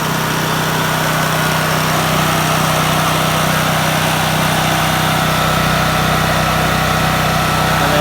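Small portable generator engine running steadily as it warms up, a loud, dense, unbroken drone with constant vibration, close by and without any talk.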